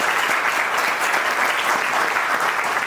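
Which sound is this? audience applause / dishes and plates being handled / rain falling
audience applause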